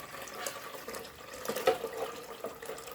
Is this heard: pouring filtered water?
yes